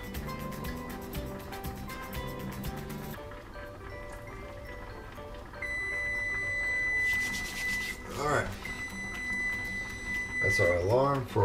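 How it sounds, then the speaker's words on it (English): A kitchen timer alarm for baking bread sounds steady, repeating high beeps across the middle of the clip, beneath ongoing talk and faint background music in a home kitchen. "That's our alarm for our bread."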